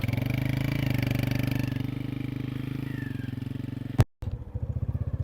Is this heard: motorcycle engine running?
yes